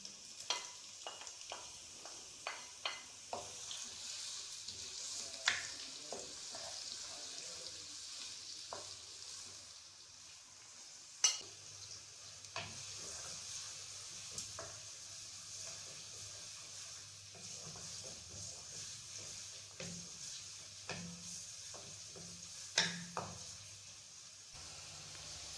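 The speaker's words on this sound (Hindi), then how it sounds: "ऑयल जो है वो गर्म हो गया है। अब मैं प्याज शामिल कर देती हूँ।" Three chopped onions fry in hot oil for chicken biryani, giving a quiet, continuous sizzle close by, punctuated by sharp clinks and scrapes of a spoon stirring the pan. No one speaks.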